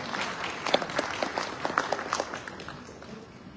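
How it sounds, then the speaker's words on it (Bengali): A crowd claps loudly and steadily for about three seconds at a sports-goods brand's opening ceremony, with dense overlapping claps and a few sharper peaks that taper off toward the end. No voices are heard. "জোরে একটা করতালি চাই"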